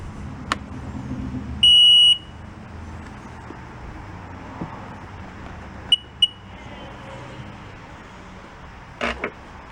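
A broken yard-sale jet ski gives one clear electronic beep followed later by a couple of short clicks and a brief faint double chirp, outdoors with low background noise.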